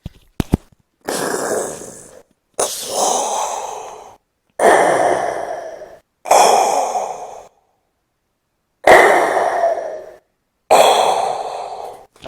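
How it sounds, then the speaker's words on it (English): A woman in a gas mask breathes heavily in the video game Sankaku Renai: six long, loud, filtered breaths come in a slow, steady rhythm with short silent gaps between them and no talk. "Gas mask lady. Breathing sounds."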